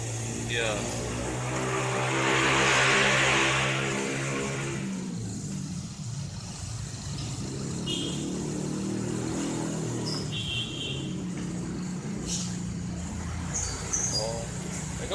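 Noisy air conditioning compressor running in a car, a steady mechanical whine and drone with a rising tone early on, close, with brief speech and background noise around it.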